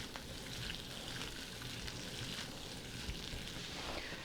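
Chopped onion sautéing in canola oil for a chicken, mushroom and asparagus stir-fry, giving a steady, close, even sizzle and crackle that holds at one level throughout with no talking.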